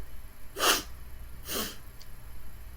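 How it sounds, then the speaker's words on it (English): Two sharp, close breath bursts about a second apart, part of a meditation breathing practice of two sniffs in and one breath out, heard alone against a quiet background. "it's two breaths in this way, Oh, and one out"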